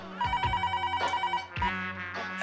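A telephone rings with a rapid electronic trill, a short burst of ringing followed by a second ring starting, loud and close.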